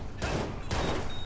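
Gunfire in the Watch Dogs video game: two loud, broadband bursts of shooting in quick succession, the second carrying on to the end of the short stretch.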